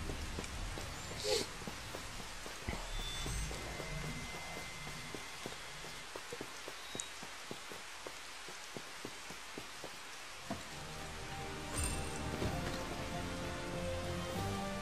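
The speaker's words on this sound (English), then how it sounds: "when there's raining, you can kind of see the reflection of the water coming off the character" Rainfall in Final Fantasy XV, a soft, steady patter of drops on surfaces, with scattered sharper ticks and faint footsteps through the wet ground.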